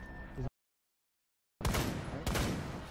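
Bursts of gunfire from a Rainbow Six Siege match, a short loud volley, then a gap of silence, then a dense, close barrage with a sharp second burst near the end.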